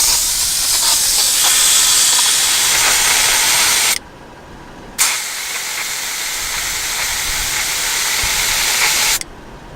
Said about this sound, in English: I'll air up through this valve.